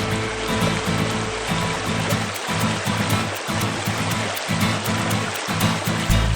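River water streams steadily in a continuous rushing wash, loud and close, with no voices over it.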